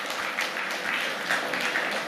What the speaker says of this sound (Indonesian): Beri tepuk tangan dong sama Tuhan.